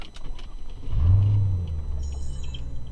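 A car engine turns over and catches, a low rumbling surge that settles into a steady idle hum, heard nearby with no talking.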